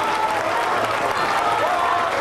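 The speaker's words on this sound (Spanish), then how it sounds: "Queremos invitar a los demás compañeros, un aplauso para ellos" Audience applause for performing music groups at an evening show in Coyoacán, a dense, steady clapping that fills the whole short stretch with a faint voice under it.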